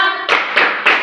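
Three sharp rhythmic hand claps ring out close by in a classroom, each one a distinct burst of a short salute clap after a brief tone at the start.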